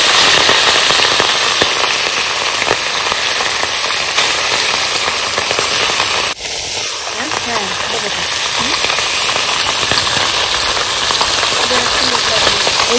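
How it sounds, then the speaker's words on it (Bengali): Puti fish frying in mustard oil in a hot kadai: a loud, constant crackling sizzle throughout, a brief clunk midway, then a voice talking over the frying. "এই পুঁটি মাছ একদম মুচমুচে করে ভাজতে হবে"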